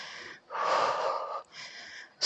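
Heavy, forceful breaths pushed out during a scissor-kick abdominal exercise at home, three long close hissing exhales in a steady rhythm, the middle one the loudest, with a sharp intake at the end.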